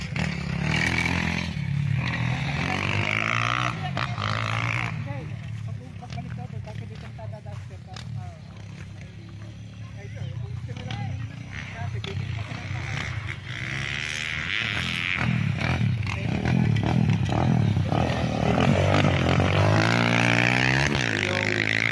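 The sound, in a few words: motorcycle engine riding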